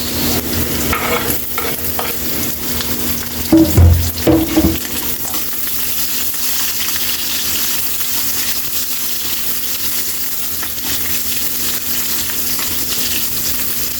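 Onions sauté in hot oil in a pan for bangus paksiw, a loud steady sizzle close up with a burst of stirring and clattering early on, then continuous frying hiss.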